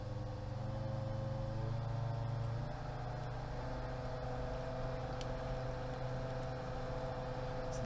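A Pentair SuperFlo pool pump runs at 1500 RPM, giving off a steady close electric motor hum with tonal whine. Its pitch shifts slightly partway through, then holds even, with no talk.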